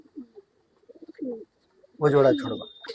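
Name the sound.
pigeons cooing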